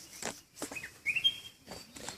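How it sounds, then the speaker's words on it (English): Birds singing outdoors at a natural zen center in Kodaikanal, a few faint separate chirps and one clearer rising whistle-like call, spaced irregularly against quiet background. "You can hear these beautiful voices of the birds"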